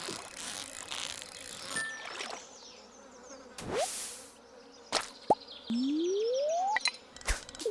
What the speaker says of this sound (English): I keep hearing bees.